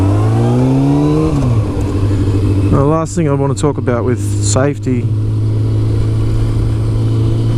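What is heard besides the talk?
Kawasaki ZZR600 motorcycle engine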